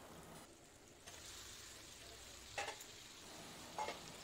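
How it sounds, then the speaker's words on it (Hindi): Fried chicken pieces dropped into masala frying in oil for a dhaba-style chicken curry, giving a steady low sizzle with two brief louder scrapes of stirring and no voices. "अब इसी स्टेज में हम चिकन के फ्राई पीसेस को डाल देंगे।"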